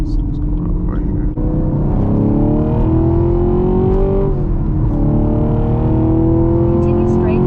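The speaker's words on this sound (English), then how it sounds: "watch how this car just takes these turns" A car driving fast along a road and taking turns, its engine droning loud and steady throughout with pitch rising and sliding as it accelerates and eases through the bends.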